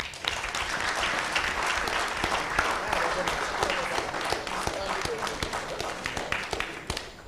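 A general meeting audience at a company's 22nd annual general meeting breaks into sustained applause, many hands clapping densely at moderate distance, with a voice talking faintly underneath.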